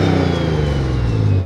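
Toyota GR Supra (2023) fitted with a Precision 6870 turbo with T51R mod, KLM race downpipe, revving loudly and steadily up close, a dense rising engine drone with a whistling turbo overtone throughout.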